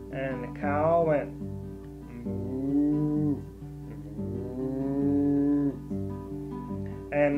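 A singer's voice imitates a cow mooing in a children's farm-animal song with guitar, drawing out several long, low moos over steady strummed accompaniment.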